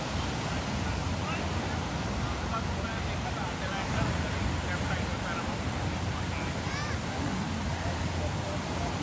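Ocean surf at Asbury Park, New Jersey rushes steadily as a continuous wash of breaking waves, with wind buffeting the microphone throughout.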